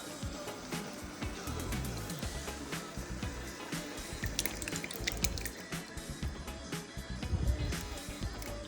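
Crushed tomatoes, a 28-ounce amount, pour and splatter into simmering ground turkey with garlic salt for a homemade mostaccioli sauce, a close, steady wet sloshing and bubbling that runs throughout with no one speaking.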